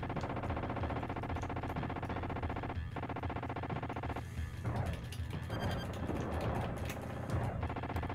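Rapid rattling gunfire and crashing impacts from the SNES game T2 The Arcade Game, dense and continuous over a steady electronic music bed, growing busier and more chaotic toward the end.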